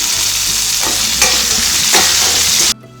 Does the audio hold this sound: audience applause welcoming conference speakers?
no